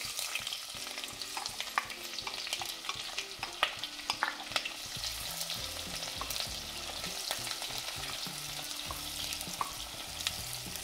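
Onions fry in a pot for corn biryani, a steady close sizzle broken by frequent scraping stirs and crackles, with no voices.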